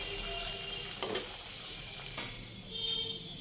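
Snack pieces frying in hot oil for a savoury rainy-day treat, a steady close sizzle throughout with a few brief louder crackles and scrapes; no talking.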